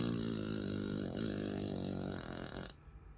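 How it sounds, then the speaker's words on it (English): A smart speaker plays a cheek wobbling fart sound effect, a loud, continuous, buzzy, flapping tone lasting nearly three seconds before cutting off abruptly into quiet room tone. "That was a cheek wobbling one."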